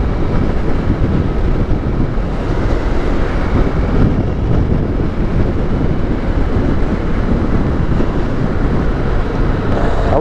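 Honda NX4 Falcon motorcycle riding and accelerating, its engine a steady loud drone mixed with wind rush throughout, close and continuous with no talk.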